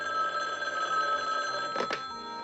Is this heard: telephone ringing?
yes